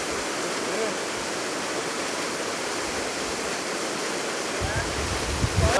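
Waterfall pouring into a plume of water on Crab Creek in Washington State, a steady broadband roar of falling water filling the whole scene, near and continuous, with a few faint bumps toward the end.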